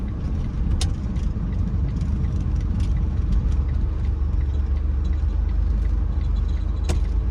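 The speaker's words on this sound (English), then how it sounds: "I'm just gonna allow this vehicle to pass us" A car passes close by on a residential street in a Richmond, Virginia housing project neighborhood, a steady broadband road rumble and engine drone heard from inside a vehicle, with a couple of faint clicks.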